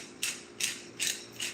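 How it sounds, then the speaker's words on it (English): A pepper grinder is twisted in four short bursts of gritty ratcheting crunch, evenly spaced, close and fairly quiet, with no talk over it. "oh, I need a pepper grinder."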